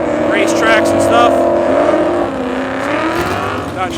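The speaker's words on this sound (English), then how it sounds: "Dodge Hellcat." A Dodge Hellcat revs and rolls past at an evening Cars and Coffee meet at Palm Beach International Raceway, its engine note rising and then fading over a few seconds as people talk over it.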